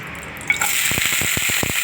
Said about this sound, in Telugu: దొండకాయలు కూడా వేసుకొని వేయించుకోవాలి. కొంచెం ఆయిల్లోనే వేయించుకోవాలండి.